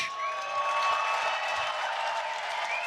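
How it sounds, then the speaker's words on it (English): Crowd at a Long Beach street drift event gives a light, scattered golf clap, a soft steady patter of hands under a thin whining tone, with faint voices in the mix. "that was like a golf clap"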